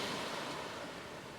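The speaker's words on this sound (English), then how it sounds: "I don't know if you can hear the sea in the background" Sea surf washes steadily onto a winter beach during shore fishing for flatfish, a continuous broadband roar with wind noise buffeting the microphone, no voices.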